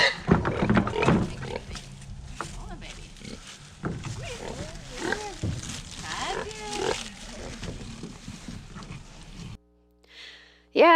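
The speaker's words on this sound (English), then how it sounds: "wrestling some pigs" Pigs squeal and grunt loudly in a farm pen as people wrestle and grab them, with frantic bursts of animal cries, scuffling and occasional human voices, ending in a brief quiet gap.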